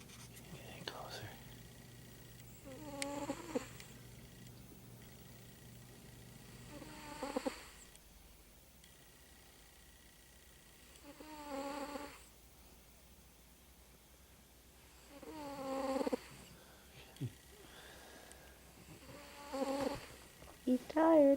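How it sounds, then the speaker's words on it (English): A cat snores softly close by, with slow, breathy snores recurring every few seconds against a quiet, hushed background. "he's snoring away."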